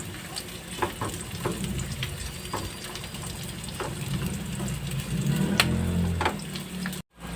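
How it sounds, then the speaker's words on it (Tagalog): Onions sauté in a pan for ginataang kangkong, sizzling steadily with a soft hiss punctuated by scattered clicks and taps of stirring, growing a bit louder before cutting off. "ilagay natin ang ating sibuyas. Yan. So, gisa-gisa lang to guys"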